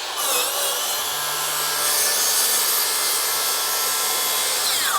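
A track saw set to maximum plunge depth cuts through wood during barndominium ceiling work, giving a steady, loud, continuous sawing whine and rasp that runs through the whole moment with no talking.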